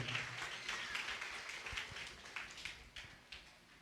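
A church congregation clapping together, a dense wash of many hands applauding, fairly faint and distant, thinning into a few separate claps toward the end.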